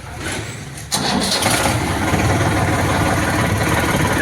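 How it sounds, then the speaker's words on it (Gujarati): A Kartar 4536 tractor engine cranks briefly, then catches at about one second and settles into a loud, steady running rumble close by, with no voices. "એકદમ સ્ટાર્ટિંગ આરામદાયક છે, કોઈ ખોટો ધુમાડો નથી કે કોઈ ખોટો અવાજ નથી"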